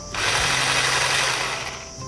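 A Panasonic MX-SS40 hand blender runs with its whisk attachment, giving a steady, high-pitched electric motor whir that holds constant and close for about two seconds without any talking.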